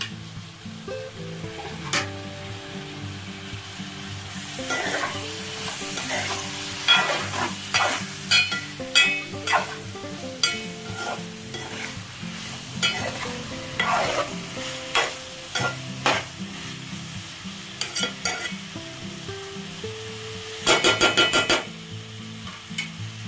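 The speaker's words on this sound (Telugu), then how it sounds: "చిక్కుడుకాయలు కొంచెం నూనెలో ఫ్రై అయ్యాక ఇప్పుడు మనం కట్ చేసి పెట్టుకున్న టమాటాలు వేద్దాం" Three small chopped tomatoes tossed into broad beans frying in oil for a curry, giving a steady sizzle broken by repeated clattering stirs of a spatula against the pan, with music playing underneath.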